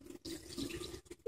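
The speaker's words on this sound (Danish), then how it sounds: "vi kører ind og gør hænderne våde." Tap water runs steadily into a sink while hands are wet under the stream, a close, continuous splashing hiss with a brief break partway through.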